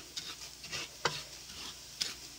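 Rice browning in a full pot for Mexican rice, giving soft sizzling with occasional scraping stir strokes, moderately quiet, no talking.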